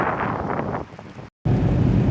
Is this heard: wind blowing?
yes